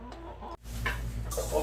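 Chickens cluck softly from their roost on a cold day, with a few short, low calls scattered over a steady background hum and nobody talking.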